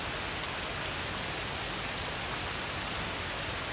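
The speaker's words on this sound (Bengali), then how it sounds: "বৃষ্টি থামার কোনো লক্ষণ নেই, বরং বৃষ্টি যেন এক তালে এক সুরে রিমঝিম করে ঝরছে" Steady rain falls in a continuous, even hiss with no breaks, a dense wash of drops heard alone with no voices, on a rainy morning by a river trawler.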